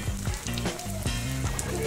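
Banana blossom spring rolls with cheese inside fry in hot oil in a pan, making a loud, continuous close sizzle under a steady pulsing tonal background.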